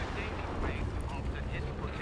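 Dense explosions in the action video game Marlow Briggs, a continuous heavy rumbling barrage with booming bursts, loud and unbroken across the short stretch.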